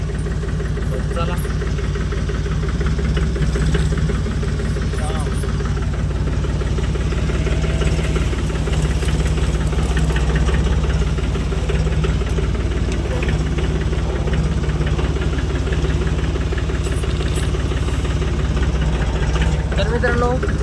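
A tractor engine runs steadily, a loud, continuous low drone with a faint knocking pulse that holds unchanged throughout.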